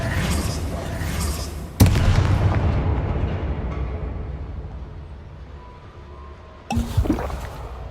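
Confringo fire-blast spell in Hogwarts Legacy, two heavy booming blasts several seconds apart, each a sudden loud hit with a rumbling tail that fades slowly.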